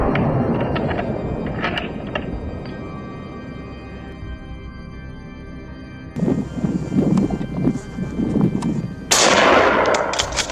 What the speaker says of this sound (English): a deafening shot rang out, striking the boar.